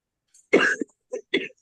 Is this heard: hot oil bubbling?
no